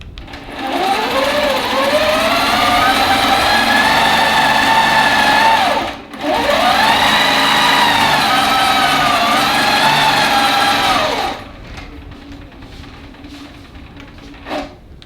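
A sewing machine stitches a quilting line in two long, steady, loud runs of whirring motor, each speeding up and then holding a high, even pitch, with a short pause between them and a quiet stop near the end.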